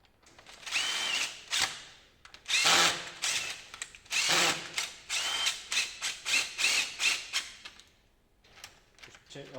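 Power drill driving the two fixing screws on a uPVC Everest window centre gearbox, several whirring bursts of varying length with short pauses between, close and fairly quiet, ending in a run of quick stuttering pulses.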